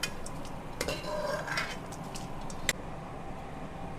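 Roasted seeds for desi panjiri are tipped from a pan into a bowl, giving a run of light rattling and scraping clinks with a sharper metallic knock near the end, over a steady low kitchen hiss.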